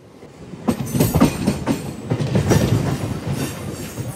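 A Visakhapatnam to Parvatipuram MEMU Express train rolls along with a steady rumble, clickety-clack from the wheels and a faint high whine or squeal, heard close and continuous.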